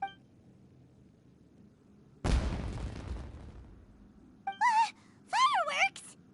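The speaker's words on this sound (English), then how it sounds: "It sounded like fireworks." Fireworks in Genshin Impact give one sudden loud burst with a crackling tail, followed by animated character voices and short chirpy exclamations.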